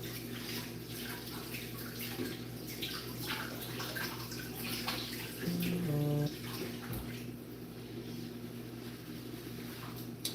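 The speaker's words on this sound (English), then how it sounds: "I'm going to rinse my pan off." Tap water runs steadily over a cutting board being rinsed in a kitchen sink after preparing a taco salad, a continuous close splashing wash with a brief louder gush partway through.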